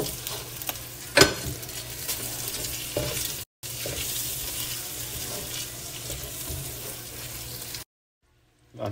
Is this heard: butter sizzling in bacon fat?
yes